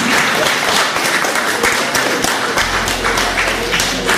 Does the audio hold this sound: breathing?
no